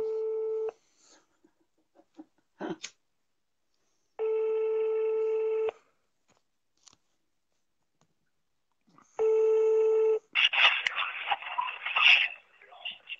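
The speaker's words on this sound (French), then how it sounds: "J'appelle sur le portable, maman Cafard." Two long electronic ringback tones of an outgoing call to a mobile phone, each about a second and a half, separated by silence, with faint clicks between and a burst of noisy sound at the end.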